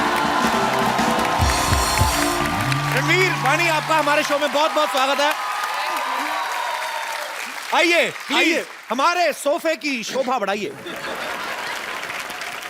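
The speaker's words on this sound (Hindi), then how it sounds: "रणवीर और वाणी के लिए जोरदार तालियां।" A studio audience on The Kapil Sharma Show applauds and cheers as Ranveer and Vani arrive. The loud clapping runs under music, then someone speaks over the fading crowd.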